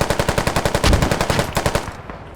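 Automatic gunfire from a shooting video game hammers out as a loud, rapid, evenly spaced burst of about twenty shots that fades out at the end.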